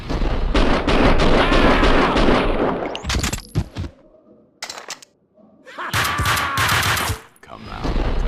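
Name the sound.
gunfire in Max Payne 2 video game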